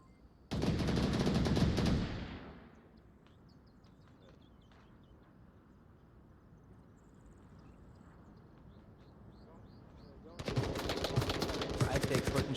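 Gunshots in a competitive VR shooter match between Raptors and Prestige, a dense burst of rapid fire at the start, a long quiet stretch, then another loud burst of shooting at the end.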